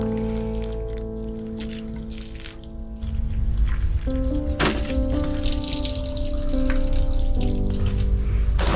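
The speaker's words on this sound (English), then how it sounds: "And I'm going to water these with my fish water too." Fish-tank water poured onto freshly separated flower seedlings, a steady close splashing stream running without a break, getting fuller and louder partway through.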